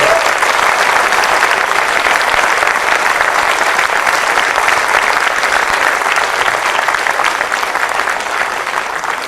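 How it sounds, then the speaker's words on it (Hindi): Sustained, dense applause from a theatre audience following a student performance of Macbeth by Bharatiya Natya Academy pupils, loud and steady throughout without pause, thinning only slightly at the very end. "एक बार भारतीय नाट्य अकेडमी के सभी छात्रों के लिए आकाश पर तालियां होनी चाहिए"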